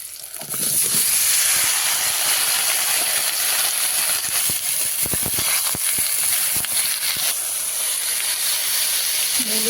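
Ridge gourd and drumstick pieces hit hot oil with fried onion in a pan, setting off a loud, steady hiss that runs throughout, with occasional faint clinks.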